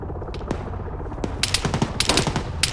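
Bursts of machine gun fire crack out during platoon training, a few sharp single shots early, then rapid rattling volleys later, loud and fairly close over steady background noise.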